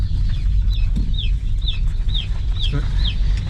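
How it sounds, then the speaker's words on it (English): Small chicks from a hatchery peep repeatedly in high, rising chirps at a quick, regular pace over a loud low engine rumble from the vehicle carrying them. "The chicks will be chirping all the way home."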